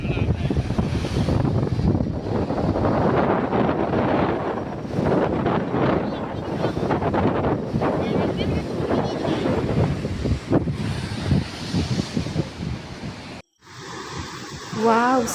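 Ocean waves surge and crash at a beach amid heavy wind buffeting the microphone, a loud continuous roar with a brief cutoff near the end.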